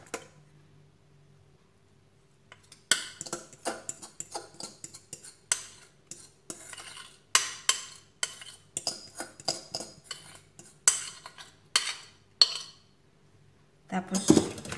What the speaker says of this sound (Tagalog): Ngayon, ibuhos natin yung mixture.